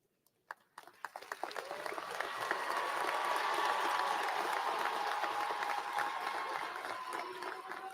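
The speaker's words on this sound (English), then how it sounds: "Faculty, please stand so that the students can applaud you." Commencement audience at a College of Education ceremony applauding the faculty, a few scattered early claps swelling within two seconds into sustained, large-room applause that holds steady and begins to taper near the end.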